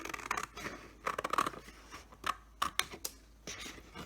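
Scissors snip through paper while an interactive paper frame is cut out, several short crisp cuts in irregular bursts, close by and fairly quiet, with no voices.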